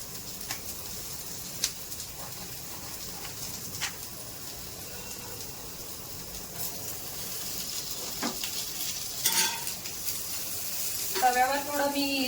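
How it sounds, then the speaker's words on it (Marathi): Steady sizzling of onion frying in hot oil on a griddle, with occasional utensil clicks and scrapes and a brief squeaky sound near the end. "तेल टाकून कांदा लाल होईपर्यंत आता परतणार आहे"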